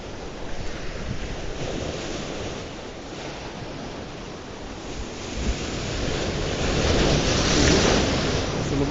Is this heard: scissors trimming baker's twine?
no